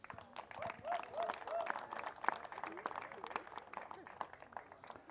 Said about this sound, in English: a round of applause for the veteran women